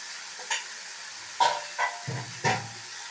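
Taro root pieces frying in a pan, with a few separate scraping stirs over a soft background sizzle, close and fairly quiet.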